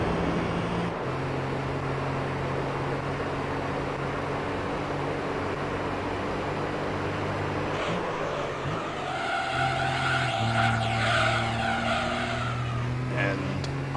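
Race car in Gran Turismo 3 on Trial Mountain, its engine droning steadily and then shifting pitch as the car slides through a hairpin, with tyre squeal rising under the engine near the end.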